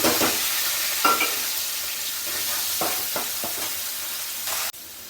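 Onions hitting hot oil alongside golden-fried cashews for a cashew and capsicum curry, a steady close sizzle broken by several scraping stirs, then cutting off abruptly near the end.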